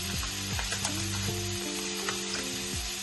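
Pancetta for an Italian carbonara sizzles loudly and steadily in a pan, a dense close frying hiss with scraping stir sounds and a few low knocks, no talking.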